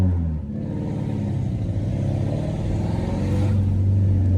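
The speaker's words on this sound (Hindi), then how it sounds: "इसका मतलब गाड़ी मिसिंग कर रही है" A Toyota Corolla engine with faulty ignition coils and a crankshaft problem revs unevenly, a loud, close, rough mid-pitched drone with a faint stuttering texture that swells higher toward the end.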